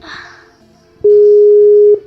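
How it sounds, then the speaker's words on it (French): A Skype call ringing out during a Terraria session: one steady electronic tone holds loud for about a second after quieter background chatter, clean and continuous. "comme cette sonnerie téléphonique. C'est juste moi qui appelle mon ami"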